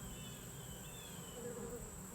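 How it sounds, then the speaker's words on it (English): Faint, continuous buzzing of a fly hovering near a Layens beehive during an autumn inspection, a thin steady whine throughout with no speech. "I've got a visitor here. I don't think it's a wasp. I think it's a fly."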